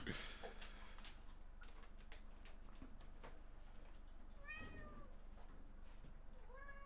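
An unhappy, angry cat meows several times in rising and falling wails, fairly faint against a steady indoor hum with scattered ticks.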